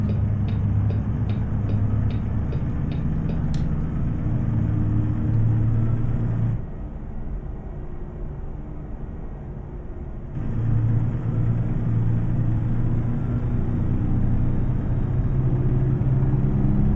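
A truck engine in a trucking simulator drones loud and steady with a deep rumble, dipping briefly in level midway before returning to a constant roar.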